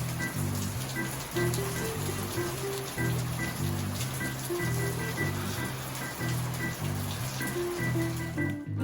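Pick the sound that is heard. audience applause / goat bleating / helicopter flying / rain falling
rain falling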